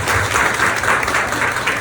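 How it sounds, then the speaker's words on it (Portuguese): Applause from an audience at a 2019 eyelash-extension conference talk, a steady wash of many hands clapping close and loud without a break. "Palmas para a Andressa."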